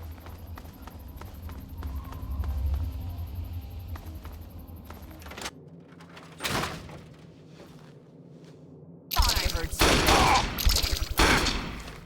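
Gunfire in the video game Fallout 3: a quieter stretch of background game sound gives way to a single loud report, then a dense, continuous burst of rapid, close shots toward the end.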